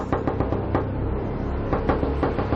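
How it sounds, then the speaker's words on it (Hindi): Someone knocks on a hotel room door, Room 501, in a Hindi horror story: loud, close, rapid knocks come in uneven bursts, with no voices. "4-5 लोगों ने उनके कमरे का दरवाजा खटखटाना शुरू कर दिया"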